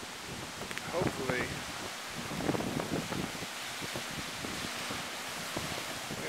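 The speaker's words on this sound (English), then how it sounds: "we are talking a windstorm, big time." A heavy windstorm blows outdoors at 3 a.m. as a steady, roaring rush with rustling gusts that never lets up. A voice speaks briefly over the wind.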